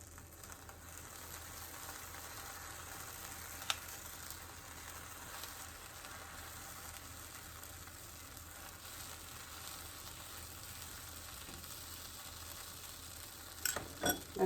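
Chinese dosa spread with Szechuan paste sizzles steadily on a griddle over low heat, a soft, even crackle with a faint tap near the start and a few clatters at the very end.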